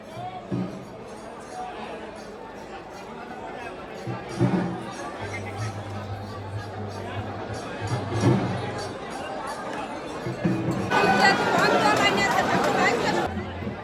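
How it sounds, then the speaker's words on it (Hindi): Crowd chatter at the busy Baba Baidnath Dham temple in Deoghar, Jharkhand, a steady murmur of many voices with scattered nearby talk and a brief low drone, swelling louder toward the end. "नॉर्मल डेज़ में भी आप देख सकते हैं यहाँ पे बहुत भीड़ रहती है"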